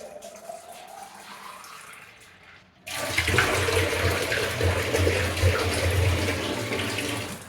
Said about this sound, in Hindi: तो पानी भर के डालेंगे इधर चाय में